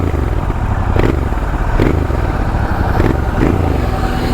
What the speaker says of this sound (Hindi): मैं एग्जॉस्ट नोट सुनाता हूँ इसका।